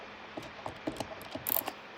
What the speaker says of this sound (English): Let me go and keep putting the screws in.